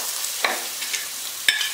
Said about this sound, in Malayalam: ഇനി നമുക്ക് തക്കാളി ഇട്ട് കൊടുക്കാം